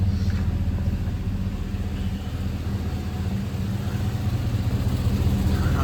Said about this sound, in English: let's go check out the motor while it's running